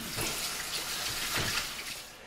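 Running tap water rinses a raw brisket, a steady broadband splashing wash that holds at an even level throughout with no talk.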